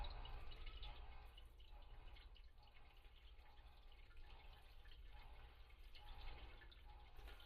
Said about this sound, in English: as I pour the water on top